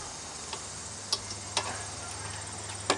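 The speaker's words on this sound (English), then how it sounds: "Now the other one, the ratcheting wrenches, are super helpful." A ratcheting wrench working a brake caliper bolt on a Honda Accord, giving a few sharp, sparse clicks spaced irregularly over a low steady background hum, fairly quiet and close.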